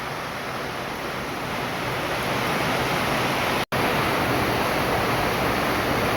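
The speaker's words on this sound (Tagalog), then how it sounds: "tuloy-tuloy pa na umuulan ngayon oh" Heavy rain pours down in a steady, dense roar that fills the scene, holding constant apart from a brief dropout midway, with no voices over it.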